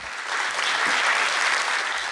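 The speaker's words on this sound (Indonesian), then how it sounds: "Sambutan tepuk tangan meriah dari penonton menutup screening film asal Papua" Enthusiastic audience applause closes a screening of the Papuan film Orpa, a dense, steady roar of many hands clapping at once, sustained and fairly loud for the whole stretch with no talk over it.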